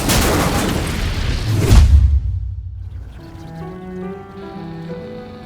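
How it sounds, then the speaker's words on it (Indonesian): A bomb goes off in a film scene: a loud, broad roaring blast with a deep boom that peaks and then fades out, giving way to quieter tonal music. "Uned memasang bom dan meledakannya hingga mereka pun bisa dihabisi"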